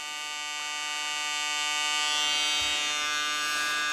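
A Fieldpiece DDSM1 draft simulator runs at high speed, a loud, steady electric motor whine with a rich harmonic buzz that rises slightly and holds constant throughout, close to the microphone.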